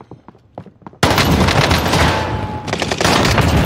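Loud, sustained gunfire in a shooter video game: a dense burst of rapid shots that kicks in abruptly after a quiet moment and continues without pause, with faint voices murmuring beforehand.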